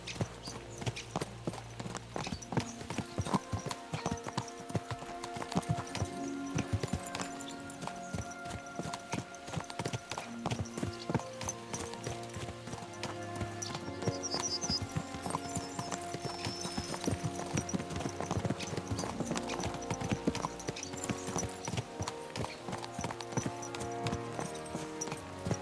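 Horse hooves clip-clop at a brisk, steady pace for the whole stretch in a medieval setting in Kingdom Come: Deliverance II, with the galloping rhythm carried over a constant layered background.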